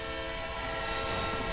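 A passing train in a multiplayer video game set in train tunnels, a steady loud rumble with tonal horn-like bands sustained throughout, no talk.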